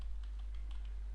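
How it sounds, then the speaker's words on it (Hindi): Light typing on a computer keyboard while entering a goods purchase in accounting software, a quick run of soft, close key clicks in an irregular rhythm, with no one speaking. "टाइप करते हैं"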